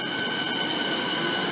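A Siemens suburban train at Seaford station in Melbourne rumbles steadily with a faint metallic wheel squeal and a high tonal whine, all heard at a moderate distance.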